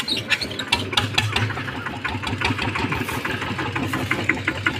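A small 12-horsepower engine runs steadily at close range, its rapid, even chugging holding a constant rhythm with a mechanical rattle on top.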